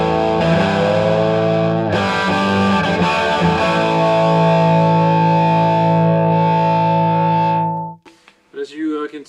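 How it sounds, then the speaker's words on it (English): Lead channel of a Tone King Sky King guitar amplifier with a vintage rock tone: sustained distorted electric guitar notes ringing loudly for about eight seconds, then a short quieter phrase at the end. "when we switch to the lead sound, this gives you an instant vintage rock style sound"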